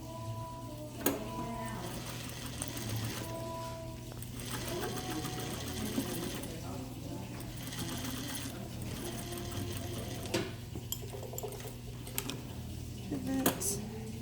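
Sewing machine stitching a fabric face mask around an inserted twist tie, running in bursts of rapid mechanical whirring with short pauses between runs.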